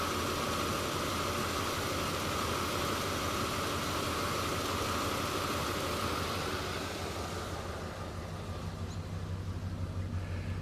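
A 1973 Ford Galaxie 500 with a 400 V8 and single factory exhaust idles smoothly and steadily up close, a broad even rumble with a hissy wash that eases slightly toward the end, no talking.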